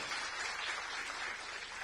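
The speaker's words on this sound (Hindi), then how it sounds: "एक बार जोरदार तालियां उनके सम्मान में" Steady applause from an audience honouring soldiers at a district public dialogue event in Kondagaon, a dense continuous wash of clapping held at an even moderate level.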